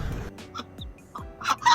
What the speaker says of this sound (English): This is my pet duck, Adam, going for his first swim.